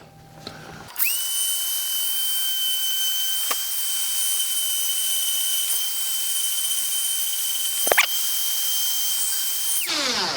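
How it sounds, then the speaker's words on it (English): Close, loud Dremel rotary tool on a flex shaft accessory spins up to a steady high-pitched whine and holds it for about nine seconds. The pitch dips briefly a few times as it meets the work, then the tool shuts off. "Just a little flex shaft accessory for the Dremel."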